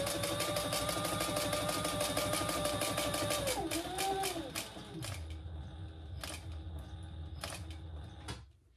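A sewing machine back stitching a faux snake leather bag runs in a rapid, even mechanical whir of needle strikes, then slows and stops, leaving a few separate clicks and taps.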